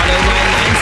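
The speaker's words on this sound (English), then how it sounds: "Some clapping there" Clapping at a Kenyan radio show, a steady loud wash of many hands with no gaps, brief and continuous.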